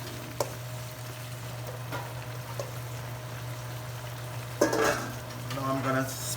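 A spoon stirring green onion, thyme and onion into a pot that has been cooking for 1.5 hours, soft scrapes over a steady low simmering hum, with one louder clatter near the end.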